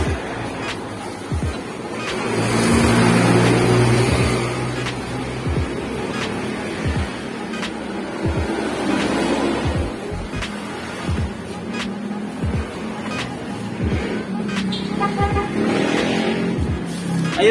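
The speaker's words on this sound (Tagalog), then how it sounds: "Ikot natin yung gulong. Kailangan tuloy-tuloy yung ikot niya." A vehicle's front wheel spinning freely after a stuck brake caliper is freed; a continuous whirring, rumbling roar with repeated faint clicks, close and steady throughout.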